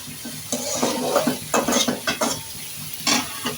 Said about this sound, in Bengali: আর আমরা কিন্তু এখন লেড়ে দিচ্ছি, নাড়াচাড়া করতেছি।